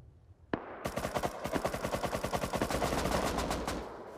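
Automatic gunfire in the survival game Rust: one sharp shot, then a long rapid burst of evenly spaced rounds, loud and close, with no talk over it.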